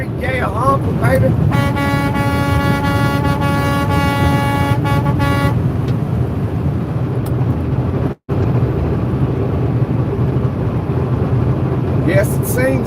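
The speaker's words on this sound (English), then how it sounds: "Honk them horns, baby." A truck's air horn blasts a long sustained tone while traffic and engine noise from trucks on a westbound road rumble underneath, with a voice talking over the scene.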